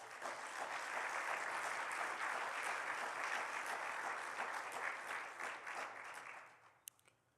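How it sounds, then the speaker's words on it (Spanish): A church congregation gives sustained applause, a broad, fairly distant wash of many hands clapping that holds steady for several seconds before tapering off to a few scattered claps. "Denle un aplauso a Cristo."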